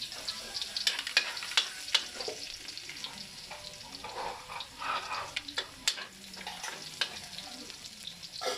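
Garlic sizzling in a hot pan for chicken caldereta, a continuous close crackle broken by sharp pops and scraping stirs, moderately quiet with no talking.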